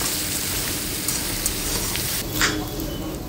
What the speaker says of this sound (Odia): ତ କଙ୍କଡ଼ାକୁ ବି ଭଲ ଭାବରେ ଫ୍ରାଏ କରିନେବା